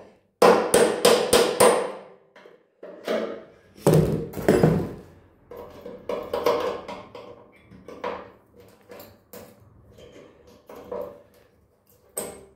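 Spot welds are knocked off the chassis of a 1961 VW Beetle with metal tools, giving sharp hammer-like clanks and bursts of rapid taps spread over several seconds, close and loud with short pauses between.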